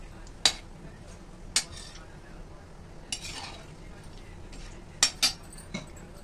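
A spoon stirs salted paneer in an oily pan, with a few sharp metal clinks and scrapes spaced apart over a faint sizzle, close by.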